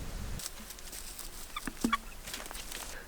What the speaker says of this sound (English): I've been spending a lot of time up here with the chickens